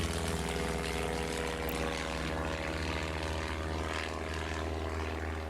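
Propeller airplanes taxiing slowly in Airport Madness during the 1925–1928 era, a steady droning piston engine hum with buzzing propeller tone, continuous and fairly close, with no talk.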